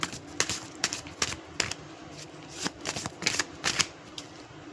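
Tarot cards being shuffled close up, a quick series of crisp riffling snaps and flicks in an uneven rhythm, alone in a quiet room.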